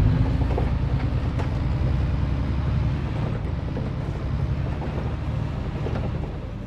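Tractor cab in Farming Simulator 22 rattling and rumbling while driving, a steady heavy low drone with continuous clattering throughout, loud and close with no talk.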